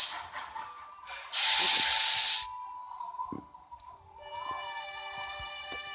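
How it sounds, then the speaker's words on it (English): A passenger steam train in a train station video game gives a loud, steady burst of steam hiss lasting about a second, followed by softer mechanical clicks and a sustained whistle-like tone with faint rhythmic ticking. "this is a passenger train,"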